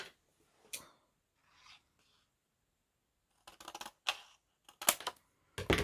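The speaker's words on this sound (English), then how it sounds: "I'm just going to trim across there using my scissors." Scissors trim a card panel for card making, quiet isolated snips early on and then a run of close, crisp cutting strokes in short bursts toward the end.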